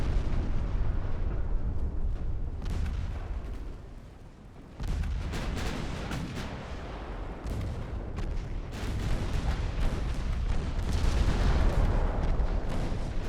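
Naval main and secondary guns firing in Ultimate Admiral Dreadnoughts during a 1903 French campaign: dense, continuous rumbling with repeated sharp gun blasts, loud throughout, briefly easing before a sudden heavy salvo, no talking.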